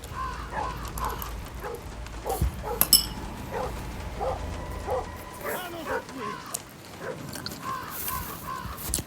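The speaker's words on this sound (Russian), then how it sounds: "Правильно, собака, не молчи." A dog barks repeatedly in a series of short, fairly evenly spaced yelps at moderate distance, with some whimpering, while a person talks in between.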